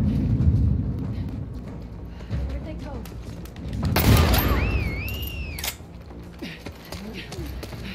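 A hunting pistol fires in The Last of Us Part II, a few heavy, close shots with booming thuds and echoing tails, mixed with game voices and someone talking over the action.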